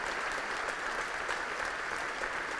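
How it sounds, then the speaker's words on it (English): Audience at a Class of 2018 commencement address breaks into sustained, dense applause, steady and fairly loud throughout with no voices over it. "Give me a round of applause for the idea"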